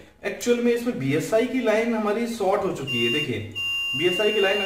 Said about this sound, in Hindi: तो मैं बीएसआई पे टच कर रहा हूँ, तो ये हमारा बीप आ रहा है